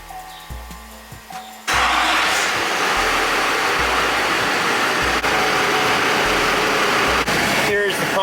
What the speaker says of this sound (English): She fires right up. I'm gonna let it run for a little bit, just get all the air out of the lines